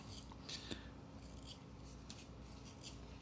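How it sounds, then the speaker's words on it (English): A small sharp zester dragged across lime peel, giving soft, close scraping and rasping strokes in quick repeated bursts over a steady low background hum, fairly quiet, with no talking. "you basically take one of these little tools, and this is sharp right here, and you just kind of drag it against the lime"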